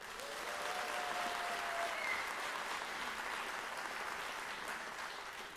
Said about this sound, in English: you guys are doing a great job clapping